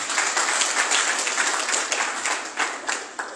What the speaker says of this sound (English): Mr. Wole Adeleji please a round of applause for him.